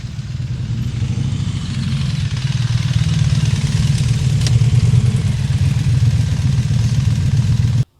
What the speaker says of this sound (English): we have some motorcycles pulling up here, which is probably pretty cool